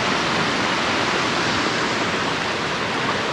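A river in flood under heavy rain rushes with a dense, steady roar of water, loud and unbroken throughout, with no voices.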